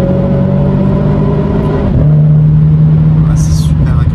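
Renault Clio 4 RS Trophy engine heard from inside the cabin with the windows closed: a loud, steady droning hum that shifts pitch midway as the car pulls harder, with a brief high noise near the end.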